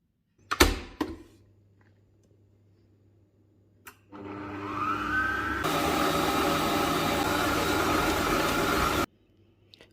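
A food processor kneads dough for Easter paska bread, starting after a couple of sharp knocks and running as a loud, steady whirring motor drone for about five seconds before stopping abruptly.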